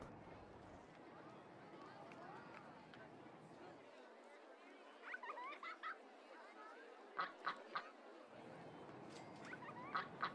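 RollerCoaster Tycoon park with a faint crowd murmur, then a few short, nasal duck quacks popping out in small bursts, quiet and somewhat distant, the last one louder.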